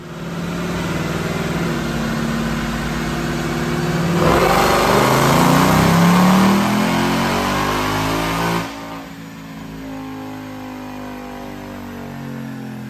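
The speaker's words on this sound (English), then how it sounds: "Check out this dyno pull." Supercharged 2021 Ford Mustang GT automatic with a Roush Phase 2 kit on a dyno, engine droning loud and steady, then climbing through a hard rev pull before dropping back to a lower run-down.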